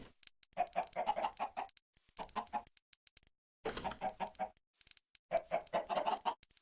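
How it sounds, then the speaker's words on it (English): Minecraft chickens cluck in three short bursts of rapid, repeated clucks, separated by brief silences, moderately loud and alone with no talk over them. "I'll go ahead and collect additional chickens, because more chickens never hurt anyone."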